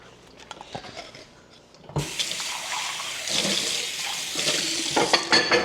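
Hot water from cooking ramen pours out in a sudden, steady splashing rush into a sink, loud and close, after a few soft clinks and knocks.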